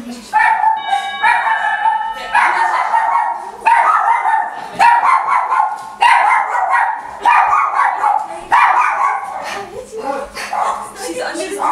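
A dog barks and yips in repeated short bursts at close range, about every second or so, loud and sharp, with people talking in the room.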